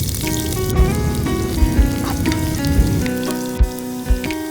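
Onions fry in hot mustard oil tempered with cumin in a pan, giving a steady close sizzle and crackle with a few soft stirring knocks.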